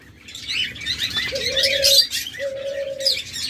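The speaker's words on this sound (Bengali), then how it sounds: "বিভিন্ন মিউটেশনের ডায়মন্ড ডাব রয়েছে" Diamond doves of various colour mutations coo in two drawn-out, level calls, close and clear, over constant bright chirping and twittering from many small birds in a busy aviary.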